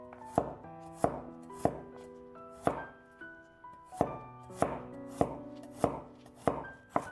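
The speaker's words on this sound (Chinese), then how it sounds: "再准备几瓣去皮的大蒜，先切成蒜片" A knife slices peeled garlic cloves in a close, steady run of about a dozen crisp chops, each a sharp tap on a hard surface with a brief ring, evenly spaced and heard alone with no voices.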